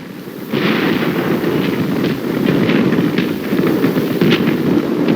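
Dense small-arms fire in Korean War combat, with Marines building a base of fire on a contested hill, crackles in rapid, overlapping bursts that stay loud and continuous, with no talk.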